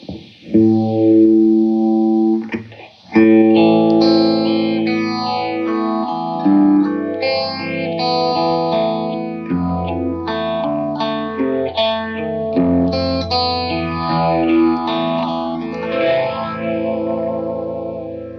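A clean melodic guitar line played through a Foxx phaser pedal, its tone sweeping and swirling with a watery, shifting effect across the notes.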